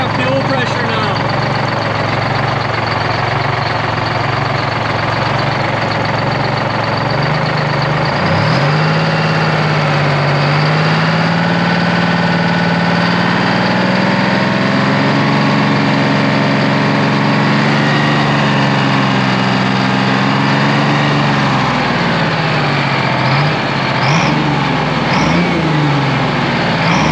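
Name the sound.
12v71 Detroit Diesel engine idling in 1973 Peterbilt 352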